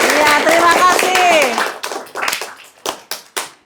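A few scattered hand claps ring out close by in a classroom, sharp and uneven, after a brief stretch of voices talking.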